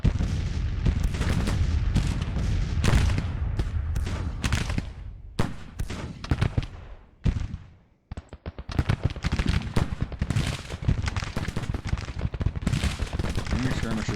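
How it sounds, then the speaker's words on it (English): Civil War artillery and musket volleys boom in the strategy game Grand Tactician: Civil War, a rapid series of sharp cracking reports that fall quiet for a moment before resuming in a dense, rolling barrage. "Yep, they're firing."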